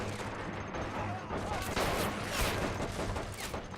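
Submachine-gun fire in the World War II strategy game Men of War, on Crete, forms a dense, continuous rattle of overlapping shots. Distant battle noise fills the background, and a faint voice talks under it.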